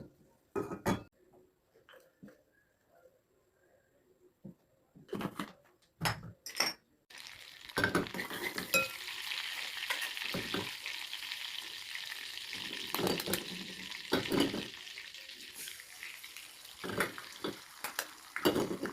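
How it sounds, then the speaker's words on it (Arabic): Butter and eggs cooking in a pot, soft sizzling and frying that starts after a few quiet knocks and clatters, then continues steadily, broken by occasional utensil scrapes and pot taps. "هنبدأ بقى نجهز البيض بالزبدة. نجيب حلة بقى ونحط الزبدة."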